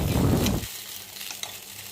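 A vegetarian breakfast snack is flipped over in a hot pan, a brief burst of loud sizzling that quickly fades to a soft, steady crackle with a single small tap.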